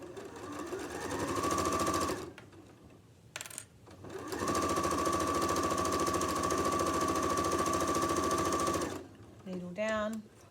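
A sewing machine runs along an apron seam in two sustained bursts of loud, even mechanical whirring, separated by a short pause, and a voice speaks briefly near the end.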